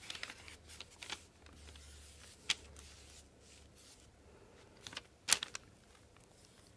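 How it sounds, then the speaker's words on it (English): Brown paper rustles in scattered, faint crinkles and sharper rasps during a one-stroke rose painting session, quiet and close with long hushed gaps between bursts. "Probably hear my brown paper rustling."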